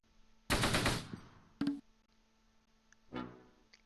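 Gunfire in the Close Combat World War II strategy game: a loud burst of automatic fire, a short second burst, then a fainter rattle, with a steady low hum underneath.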